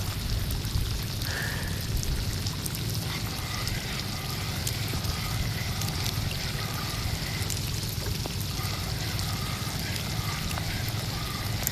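Steady rain pours down during a lure-fishing trip at sea at low tide, a dense, continuous hiss of drops hitting water and surfaces that fills the whole stretch without letting up.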